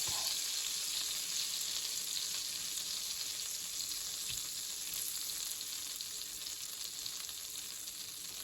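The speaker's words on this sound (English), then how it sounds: "almost finished melting. I'm going back down to temperature 5, so I don't want to burn the butter" Butter melts and sizzles in a hot frying pan on a stovetop, a steady close crackling hiss that continues evenly throughout with no talk.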